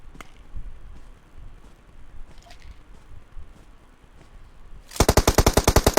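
Rapid automatic gunfire bursts out loud and close in PUBG Mobile on the Sanhok map, a fast even string of shots after a few seconds of quiet game ambience with scattered faint distant pops.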